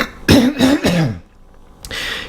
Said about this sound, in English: I have the smoker's cough already.